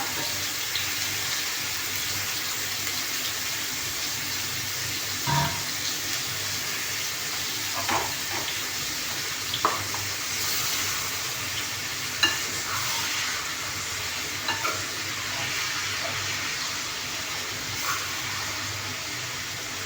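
Spicy Malay sambal sausage stir-fried in a small wok, a constant loud sizzle broken by periodic clanks and scrapes of the spatula against the metal, no voices heard.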